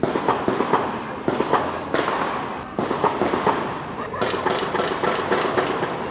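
Gunfire in a shootout between drug traffickers in the Boa Vista area of Vila Velha, heard as a rapid series of sharp cracks and pops in irregular bursts over steady background noise, fairly close and loud throughout.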